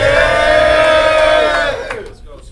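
A loud, dense crowd roars and cheers at a rap battle, sustained yelling and whooping that fades out within a couple of seconds.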